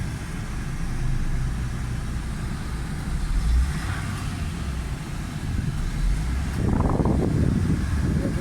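A 2008 Suzuki Cultus EFI idles with its air conditioning switched on, a steady close low engine hum with some wind noise and a slight rise in rumble near the end.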